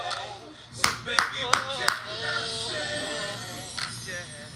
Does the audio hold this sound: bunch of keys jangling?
no